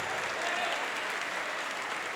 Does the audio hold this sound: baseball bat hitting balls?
no